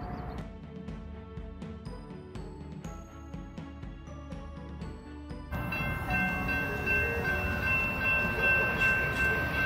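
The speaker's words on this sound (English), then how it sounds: "The train's coming." A train nears a rail crossing while the crossing bell rings in a steady rhythm, then the loud roar of the passing train takes over and builds, heard from close by with no talking.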